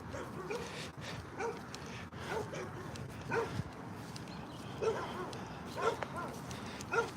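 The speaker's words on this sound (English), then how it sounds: "Don't mind the dogs." Dogs bark and yip in short, scattered bursts at moderate distance outdoors, with faint talk and background noise beneath them.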